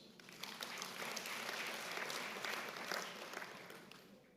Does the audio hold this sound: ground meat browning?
no